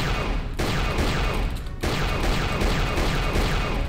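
Turret cannons firing in Star Wars KOTOR II, a dense, continuous stream of rapid blasts with a brief pause partway through, loud and close.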